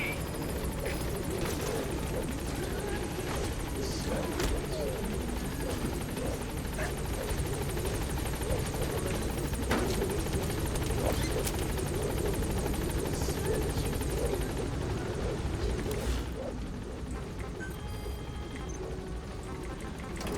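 Helicopter arriving in the video game Metal Gear Solid V, a steady rotor thump and engine drone that holds loud and even for most of the time, then eases slightly near the end.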